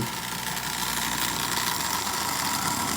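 A prewar Marx toy train motor, running forward in a derusted Marx 495 shell and pulling Lionel cars at low power, gives a steady close buzzing whir with an even, unbroken drone.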